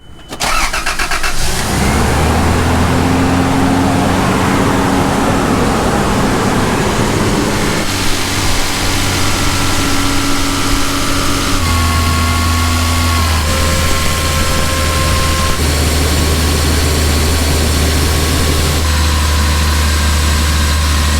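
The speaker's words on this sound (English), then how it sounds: "Lee's going to start the engine, and hopefully we're not going to see any leaks." A Toyota FZJ80 Land Cruiser engine cranks briefly, catches and settles into a loud, steady idle close by, running continuously with shifting tones after a water pump, thermostat and heater control valve replacement.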